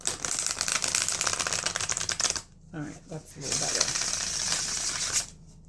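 A Tabula Mundi tarot deck is riffle shuffled by hand in rapid crisp card-flutter bursts, close and loud. A short pause follows, during which a person speaks, and then another long shuffle.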